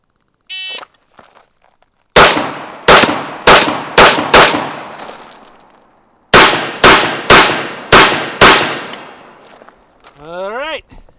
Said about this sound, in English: going to do 5 shots from the left side of an improvised barricade and 5 shots from the right